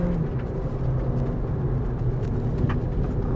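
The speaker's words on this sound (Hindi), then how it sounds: "काफी जल्दी जल्दी गाड़ी गियर बदल रही है, टर्बो पड़ गया है" Inside a Skoda Slavia 1.5 automatic with a turbo engine, a steady low cabin rumble of engine and road noise holds under hard acceleration, even and continuous with no voices.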